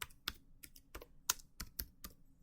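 Keys clatter on a computer keyboard in a short burst of about eight separate, fairly close strokes with uneven pauses between them, with no voices present.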